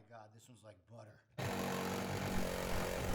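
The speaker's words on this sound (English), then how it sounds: "I'm using a tiny battery-powered reciprocating saw." A small battery-powered reciprocating saw cuts through the steel roof of a Promaster van, a loud, steady rasping buzz that starts abruptly after a short stretch of speech and runs on to the end.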